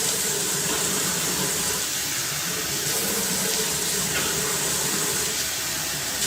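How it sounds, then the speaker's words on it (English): A sink tap runs steadily in a video game, a continuous broadband hiss of flowing water filling the whole stretch at moderate loudness with no talk over it. "Okay, over here, there's the sink."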